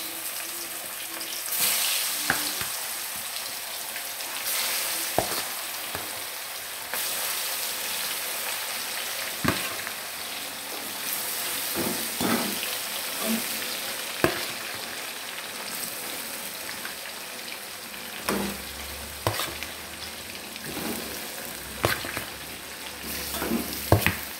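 Fish fries in a pan of hot oil for Arab-style fried fish jollof rice, with a loud, continuous sizzle and sharp crackles and spatters breaking out now and then, and no voices.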